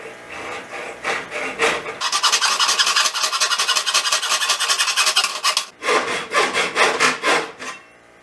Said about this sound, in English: This is just a regular hacksaw with a regular hacksaw blade.